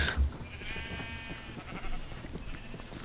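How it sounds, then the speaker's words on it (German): Sheep in the video game Minecraft bleat while running, a couple of short nasal bleats over busy game sounds and footsteps, close and clear. "Die Schafe rennen, sie machen alles nieder, die Schafe rennen."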